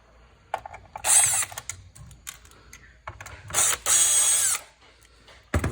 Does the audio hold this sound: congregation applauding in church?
no